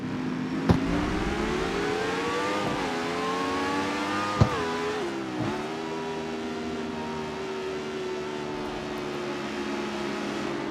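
A car engine in the racing video game CarX Street drones steadily with rising and falling pitch as it revs, punctuated by a few sharp clicks, continuous and fairly loud throughout.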